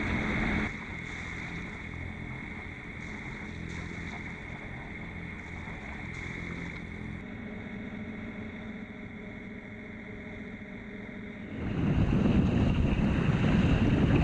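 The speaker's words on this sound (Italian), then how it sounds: "è uscita una bella brezzolina con mare calmo" Steady wind rushing past over the gentle wash of a calm sea while under sail off San Giovanni in Pelago, with a louder gust of wind and water near the end.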